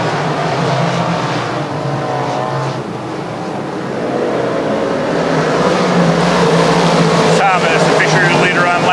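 Sprint cars racing at Lernerville Speedway, a pack of engines roaring steadily and loudly around the dirt oval, with a track announcer talking over the noise.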